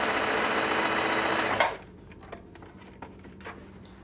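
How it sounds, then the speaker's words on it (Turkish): A Bernette b05 sewing machine runs a wide 6 mm zigzag stitch in a loud, fast, steady whirr for about a second and a half, then stops, leaving faint clicks and handling noises. "Makine 6 milim zigzag yapacak."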